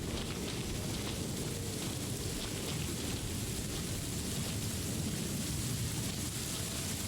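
Steady, dense rain hiss pours down without pause in a video game, a continuous broadband wash of falling drops with a low rumbling undertone and no talking.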